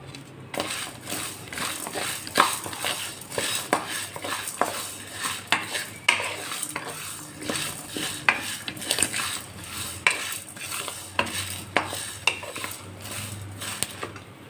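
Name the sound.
coconut, curry leaves and tamarind frying and stirred in pan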